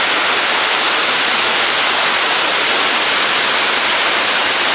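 Broad, steady rushing of a waterfall at San Pedro Creek Park in San Antonio, a loud continuous hiss of falling water with no break and no voices.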